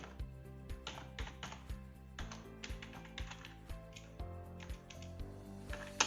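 Typing on a computer keyboard during a Python coding lesson: a fairly close series of irregular, crisp key clicks in short bursts, with no talking.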